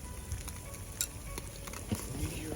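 Chopped green onions hiss as they go into a hot frying pan at a campfire day camp, with a soft sizzle, scattered stirring scrapes and a few light utensil taps, quiet and close.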